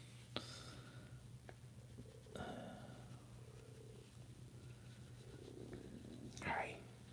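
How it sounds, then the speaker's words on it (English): A cat's low, steady purr runs throughout, close and soft, with brief whispery voices and small handling noises on top. "you can hear him purring"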